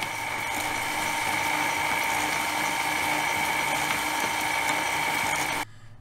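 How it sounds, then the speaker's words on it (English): Electric ice cream maker churning with a steady, continuous motor whir and faint mechanical rattle, close and even throughout, stopping abruptly near the end. "I will zoom in so you can get a better idea on the noise level of this ice cream maker"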